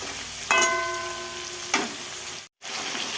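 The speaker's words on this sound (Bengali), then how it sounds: "তো চিকেনগুলোকে একটু ভেজে নিচ্ছি লাল লাল করে।" Chicken pieces frying in hot oil for a Bengali village-style curry, a steady close sizzle with a burst as pieces drop in, a second clatter, then a brief cut-out before the frying resumes.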